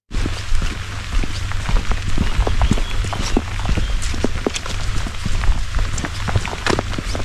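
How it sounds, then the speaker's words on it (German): Steady patter of rain falling on a surface outdoors on the Rheinsteig trail between St. Goarshausen and Kaub, with scattered sharper drops and a low constant hum underneath, continuous throughout. "Also nachdem der Regen nicht so schnell aufhören wird"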